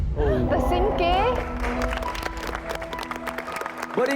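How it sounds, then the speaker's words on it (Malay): Studio audience applause on a youth game show, a broad wash of clapping that builds after the first second and runs under steady background music, with a host's voice over the opening moments. "Berikan tepukan kepada mereka."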